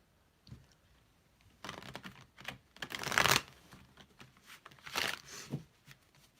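A deck of cards being shuffled by hand, close and fairly quiet, with irregular bursts of riffling and crisp flicks between short pauses, one louder flurry in the middle and another near the end.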